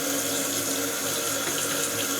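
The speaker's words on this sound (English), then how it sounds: "how many times have I flushed the toilet now?" Steady rushing water from a toilet flushing and refilling after installation, a continuous broadband gush filling the whole stretch at close range with no voices.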